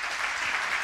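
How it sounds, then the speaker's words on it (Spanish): An audience at a live comedy show gives a short, dense burst of applause, many hands clapping together for under a second. "esto se merece un aplauso, por favor"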